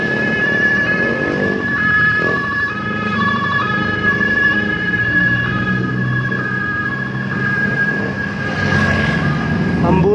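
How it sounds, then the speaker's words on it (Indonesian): An ambulance siren wails steadily at night on a busy road at Nagreg, its tone holding and shifting in pitch over traffic rumble, loud and close, with people talking at times. "Ambulan ya."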